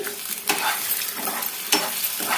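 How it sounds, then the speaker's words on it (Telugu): Egg frying in a pan for egg rice, a steady broadband sizzle punctuated by two sharp scraping stirs of a spatula, close and fairly loud with no talking. "ఎగ్ వేసుకున్న తర్వాత వెంటనే కలపొద్దండి. అలా 1 నిమిషం పాటు ఫ్రై అయిన తర్వాత కలుపుకోవాలి."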